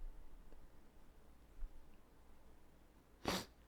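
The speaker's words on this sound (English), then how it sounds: "I just sneezed there for a second." A single short, sharp sneeze bursts out near the end over a quiet, hissy room background.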